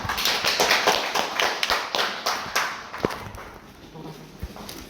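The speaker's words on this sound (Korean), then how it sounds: "박수 한번 부탁드립니다." Applause from a seated audience at a food hygiene law training session for a forest products processing class, a dense patter of claps that fades over several seconds.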